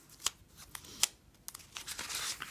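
Paper planner pages being folded and creased by hand, giving a few short crisp rustles and crinkles, close and quiet, with no talking.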